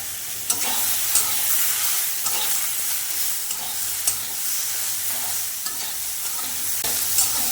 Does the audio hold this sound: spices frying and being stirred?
yes